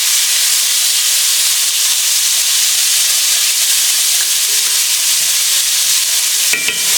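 Steak pieces sizzle in a hot pan, a loud, continuous hiss and crackle with no talk, broken by a brief clatter near the end.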